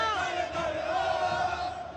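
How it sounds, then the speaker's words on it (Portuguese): Football fans at a Brazilian championship final in the stadium stands, a dense, steady roar of crowd voices chanting and cheering together at full volume for a couple of seconds. "a torcida urubuzada pula na arquibancada"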